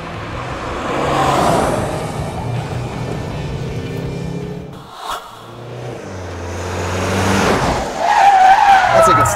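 A Mazda CX-5 SUV is driven fast around a race track, its engine droning loudly with tire noise and skidding through corners, a brief dip midway, while people talk over it.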